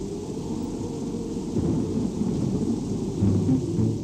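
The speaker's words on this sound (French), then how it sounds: "Dans l'après-midi, un orage bref et violent éclate." A brief, violent afternoon thunderstorm rumbles with low thunder over steady rain, a dense continuous roar that swells slightly toward the end, with no voices.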